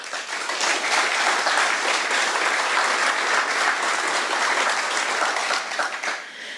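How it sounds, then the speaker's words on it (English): Sustained applause from an audience, a dense steady wash of many hands clapping at full strength that fades slightly at the very end. "another warm round of applause to the representatives for our communities"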